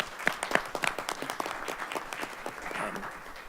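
A council meeting audience gives a round of applause, with distinct individual claps standing out at first before thinning into softer scattered clapping.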